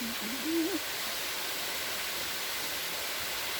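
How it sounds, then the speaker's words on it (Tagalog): A waterfall in a forest at Timberland, a steady broadband rush of falling water holding level throughout, with a brief tonal call or whistle near the start. "Ay, yun pala yung falls"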